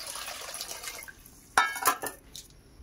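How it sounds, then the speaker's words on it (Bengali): Hot water splashes and trickles into a basin in a short burst, close and wet-sounding, with a faint hollow ring and a few drips trailing off. "তো দেখো আমি নিয়ে নিয়েছি গরম জল"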